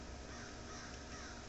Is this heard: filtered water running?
no